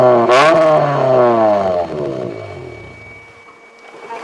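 An engine revs hard at about 3,000 rpm with a loud, harsh exhaust roar during a police noise-meter test, then the pitch falls away as it winds down toward idle.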